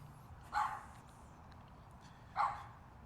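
A dog barks twice, about two seconds apart, sounding somewhat distant and faint during an autumn walk, with no talk over it.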